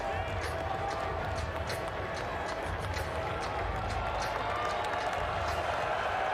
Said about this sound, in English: but it is a very loud crowd